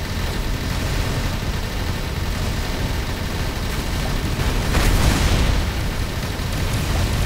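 Rumbling spaceship weapon fire and explosions in the space game Avorion, a dense continuous roar of blasts with a louder burst near the end of the stretch, heavy and close with no voices over it.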